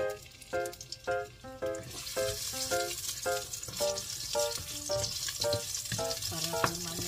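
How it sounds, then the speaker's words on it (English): Ginger sautéing in a pan gives a continuous loud sizzle, broken by repeated rhythmic scrapes and taps of a spatula stirring it close by. Tonal music plays underneath. "Let's saute the ginger."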